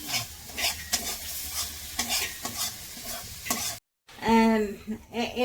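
Spice masala paste frying in a pan for a jackfruit kofta curry, with a brisk, close sizzle and repeated stirring scrapes, a short silent gap, then a louder sizzle burst as water hits the hot masala.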